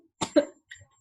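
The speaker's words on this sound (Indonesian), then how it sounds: "jadi batuk saya." A person coughs twice in quick succession, close and sharp, followed by a softer throat sound.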